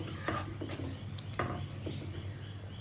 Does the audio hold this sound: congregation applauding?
no